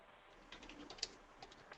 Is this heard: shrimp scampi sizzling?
no